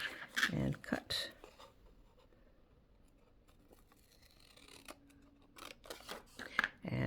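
Scissors snip through a folded sheet of paper for making small zines, a few close crisp cuts at the start and again near the end, with speech in between and a quiet stretch in the middle.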